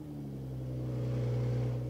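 A BMW engine idles steadily after the ignition is switched on, with a low, continuous hum and faint harmonics that hold throughout, close by and without speech.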